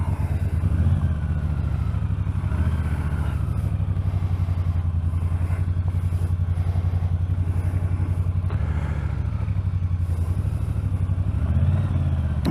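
A Triumph Bonneville T120 motorcycle engine fires up after sitting unridden for about two weeks, settling into a steady, loud, close twin-cylinder idle with mechanical clatter.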